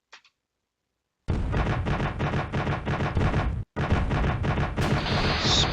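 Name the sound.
gunfire in video game Command Modern Air/Naval Operations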